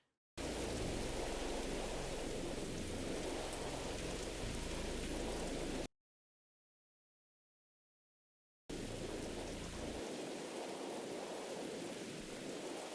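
Heavy rain hisses steadily with rumbling thunder in the horror game Mothered, loud and continuous, breaking off into silence for a few seconds before the downpour resumes.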